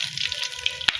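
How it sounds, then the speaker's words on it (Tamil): Fennel seeds, cinnamon and cloves sauté in hot oil for a cauliflower gravy, giving a steady close crackling sizzle with small popping spits. "பட்டை 2 கிராம்பு, கிராம்பு 2 இது போட்டுக்கோங்க. நல்லா வதங்கட்டும்."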